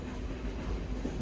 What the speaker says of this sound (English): let the gentle rhythm of the train carry you through the heart of Pennsylvania's wilderness